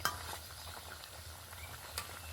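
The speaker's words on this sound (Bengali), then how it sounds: "এখানে বেশ কয়েকটা তেলের মধ্যে ছেড়ে দিয়েছি" Potato snacks (khasta) frying in lightly heated oil in a wok, a steady close crackling sizzle with faint utensil clinks, no talk.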